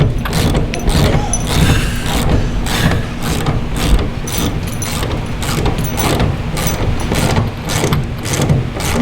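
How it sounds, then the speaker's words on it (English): A ratchet clicks in quick repeated bursts while tightening a bolt on a Turbowing being installed on a Peterbilt 389 truck in a chrome shop, close and loud amid clanking. "Where's the ratchet? All right, I'm gonna go ahead and tighten it, Chris."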